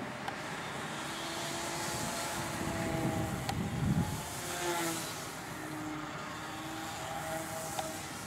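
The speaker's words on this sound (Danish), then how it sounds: "Det ser fedt ud, når den flyver out med sunset der." A radio-controlled model Cessna airplane flies outdoors at Bogø, its small engine giving a continuous buzzing drone that swells and fades with distance amid wind noise.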